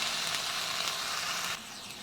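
Ginger, garlic and cumin paste hits hot oil with fried onions, giving a loud, steady, close sizzle that drops slightly in level partway through.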